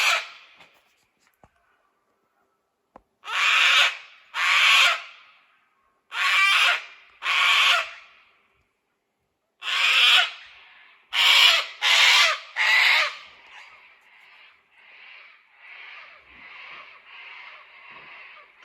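A bird gives a harsh, raspy series of calls, loud and close: paired croaking bursts separated by pauses, then a quicker run of softer repeated notes at the end, with no other sounds.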